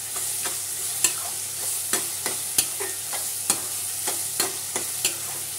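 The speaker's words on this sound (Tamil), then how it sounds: "பச்சை வாசனை போகிற அளவுக்கு இஞ்சி பூண்டு பேஸ்ட்டு வதக்கிக்கலாம்." Ginger garlic paste sautéed with onion and tomato in a pan, a steady frying hiss under regular scraping strokes and sharp taps of the spoon against the pan, close and continuous, with no voices.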